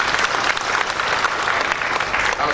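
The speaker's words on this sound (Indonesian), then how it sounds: "Mau tepuk tangan buat Yesus." Applause from an audience at a church-style gathering, raised in praise of Jesus; dense steady clapping fills the whole stretch at even loudness, with no voices standing out.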